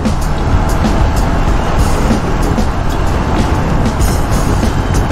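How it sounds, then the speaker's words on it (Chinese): Dense downtown traffic roars steadily and loudly close by, a continuous wash of engine and tire noise from many passing cars, heard from a BMW R18 cruiser motorcycle ride. "你看车流量很多"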